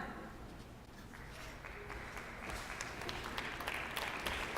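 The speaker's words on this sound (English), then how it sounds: "Yeah, keep applauding." A trivia challenge audience claps continuously in a dense, even wash of applause that builds slightly toward the end, with no voices over it.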